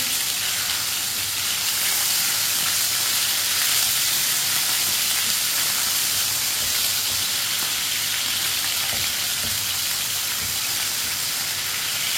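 Small pieces of chicken fry in a pan over a lowered flame, giving a loud, steady, close sizzle that sounds like heavy rain and runs on without a break.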